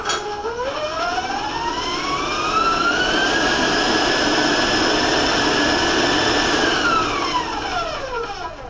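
An electric mixer beats an egg into whole wheat cookie dough with a loud, continuous whirring whine that climbs in pitch as it speeds up, holds steady, then drops away near the end.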